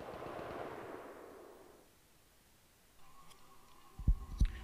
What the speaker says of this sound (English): Seconds later, I heard gunshots.